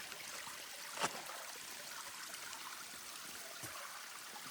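A small mountain stream on the Appalachian Trail flows across the path, giving a continuous, fairly faint trickling and babbling with a couple of brief splashy gurgles and no voices.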